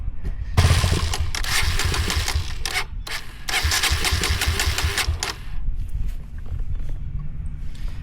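Kawasaki KLX140RL dirt bike engine running and revving, with a buzzy, close engine note rising in loud bursts, then dropping back toward idle.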